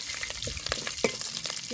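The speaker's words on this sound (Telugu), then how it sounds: "కొంచెం జీలకర్ర, 4 ఎండుమిరపకాయలండి. అలానే కొంచెం కరివేపాకు. ఒక్కసారి కలుపుకుందాము." Cumin seeds, dried red chillies and curry leaves stirred in hot oil, a steady soft sizzle with scattered crackles and light clinks of the spoon, close and moderately loud, no talking.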